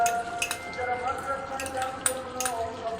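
A spoon stirs a pot of braising chicken for tehari as almond paste is added, giving light scraping and a few close metallic clinks over a low, steady cooking background.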